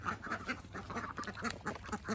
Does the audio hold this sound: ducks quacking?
yes